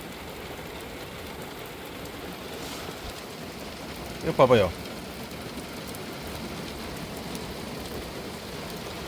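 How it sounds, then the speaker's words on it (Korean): Rain patters steadily on a parked Kia Ray during car camping, a soft continuous hiss with a brief louder splash of drops in the middle, while a person speaks briefly. "여기 이렇게 비가 오면 물이 일로 떨어집니다."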